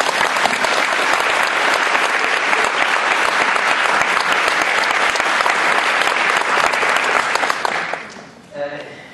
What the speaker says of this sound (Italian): lo facciamo con un applauso